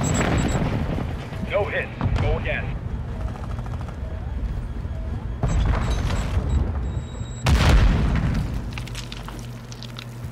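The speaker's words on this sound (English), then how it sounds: "Enemy precision airstrike" Enemy precision airstrike explosions in Call of Duty Warzone on Ashika Island, with several heavy booming blasts at uneven intervals, the loudest near the end, mixed with gunfire and game noise while a player talks briefly.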